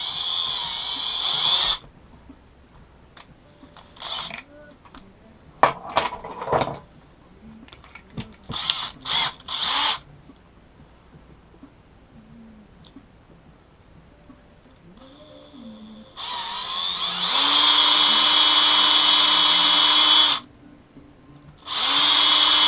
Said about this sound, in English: So I just use drill bits for this part.